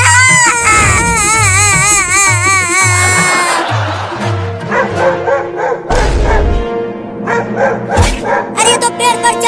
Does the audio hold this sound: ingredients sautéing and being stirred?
no